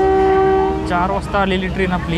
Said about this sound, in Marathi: आत्ता ट्रेनने हॉर्न दिलेला आहे